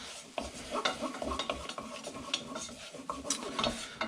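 A roux of butter and flour cooks in a pan over lowered heat, stirred with rhythmic scraping strokes against the pan bottom and a soft sizzle beneath.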